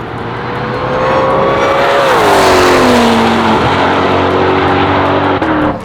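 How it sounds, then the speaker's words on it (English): A Ferrari 488 Pista and McLaren 600LT roar past loudly on a racetrack, engine pitch sweeping downward as they go by, with a dense wash of engine and road noise throughout. "Watch when these cars fly by."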